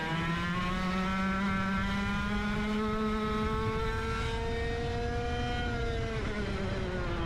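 Go-kart engines racing on a track: a high, buzzing engine drone holds steady and rises slowly in pitch as the kart accelerates, loud and continuous with wind noise.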